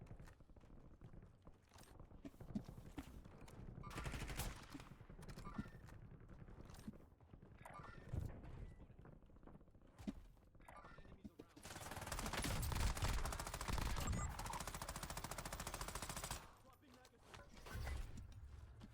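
M13B rifle fire in the video game Warzone, with rapid automatic bursts, mechanical clatter and a sustained loud volley partway through, while a player talks over it.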